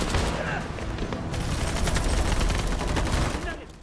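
Dense film gunfire from rifles, a continuous loud barrage of rapid shots and booms with no pause, set in a scene of police fighting off undead attackers.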